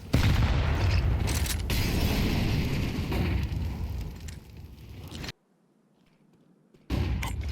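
A Molotov fire burns in Counter-Strike 2, a loud, steady roaring whoosh that fills the first five seconds, cuts to near silence and then briefly returns.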